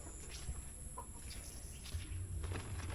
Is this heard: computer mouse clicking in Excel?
no